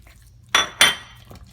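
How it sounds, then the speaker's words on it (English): Two sharp clinks of a utensil against a bowl come in quick succession as meatball ingredients are mixed, with a faint knock after them and near silence in between. "We want to mix it really good. These are the wet ingredients, and we want to mix it together."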